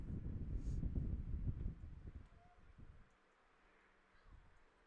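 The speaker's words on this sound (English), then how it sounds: "Wind seems to be blowing almost straight out to left right now" Wind gusting over an outdoor baseball field during a game, a low rumbling buffet that dominates the first couple of seconds and then eases into quieter broadband noise with a brief gust near the end.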